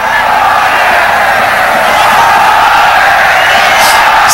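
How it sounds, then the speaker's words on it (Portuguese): Venezuelan football fans in a stadium during a World Cup qualifier against Brazil make a loud, sustained crowd roar that fills the whole stretch, with a commentator's voice likely blended into it. "Está ouvindo a reação do torcedor da Venezuela"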